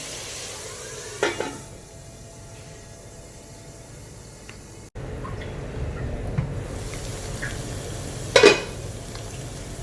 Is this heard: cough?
no